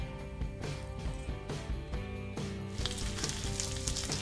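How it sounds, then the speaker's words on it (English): Bacon sizzling on an outdoor flat top griddle, a dense crackling hiss with sharp spits and pops, continuous and close, with no talk. "we're cooking out on the flat top griddle today, so we've already got some bacon sizzling away"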